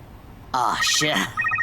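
A voice speaks briefly, then a telephone begins to ring with short electronic tones.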